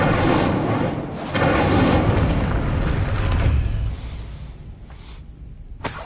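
Incendio fire spell cast in the Hogwarts Legacy video game, a loud rushing blast of flame that roars for a few seconds and then fades, ending with a short sharp burst.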